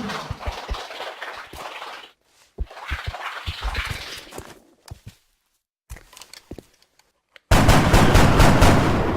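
Several sharp gunshots in XCOM Long War, single cracks and short rapid bursts separated by silences, ending in a loud sustained roar.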